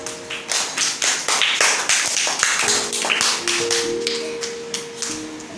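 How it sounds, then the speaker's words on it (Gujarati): A classroom of children claps together in a burst of quick, fairly loud claps lasting several seconds, with no talking over it. "તાળી પડો બધા."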